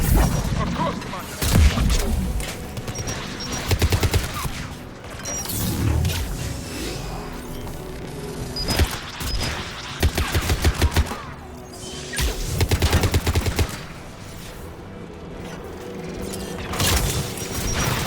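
Tower defense guns in Mass Effect 3 fire in repeated rapid bursts, loud and close, alongside booming impacts and mechanical clatter, with game voices talking over parts of the barrage.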